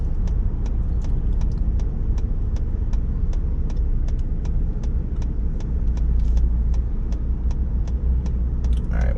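A Raptor truck cruises on a test drive, heard from inside as a steady, loud low rumble of engine and road noise, with faint regular ticks repeating at an even pace throughout.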